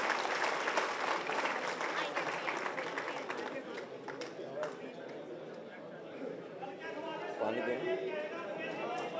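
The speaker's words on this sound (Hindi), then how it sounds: "जोरदार ताली बजा के स्वागत कर दीजिए" Crowd at a political gathering at a club in Chandni Chowk claps to welcome a guest, a steady wash of applause mixed with loud overlapping chatter and voices from the audience.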